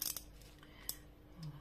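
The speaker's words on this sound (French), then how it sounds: "Et on va venir couper ici." Scissors cut through material in a quiet room, giving a couple of faint, crisp snips with light metallic clicks between them.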